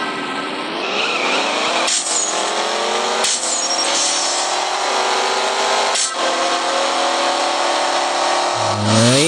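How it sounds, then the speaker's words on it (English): A Ford Shelby GT350R in the racing game CSR Racing World Tour roars hard through a long run of rising revs, each gear shift a brief dip before the loud engine climbs again, with a short tire screech at the end. "I'm driving a Ford Shelby GT350R and Mateo's in the Zonda R"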